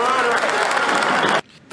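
Police officers cheer in a film scene, a dense crowd roar of voices and claps that holds loudly for over a second and then cuts off abruptly to near silence.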